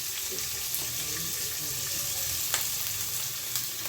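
Onion and slit green chilies crackling in hot oil in a kadai with a pinch of asafoetida, a dense, even sizzle close by with small pops throughout.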